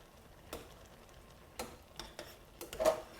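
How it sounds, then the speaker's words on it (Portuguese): Corn flour is stirred into a pot of well-cooked beans, giving a few soft scraping strokes of a spoon against the pot that come at irregular intervals over a low background hiss. "Eu vou entrar com as farinhas. Farinha de milho. Eu tenho que mexer bem."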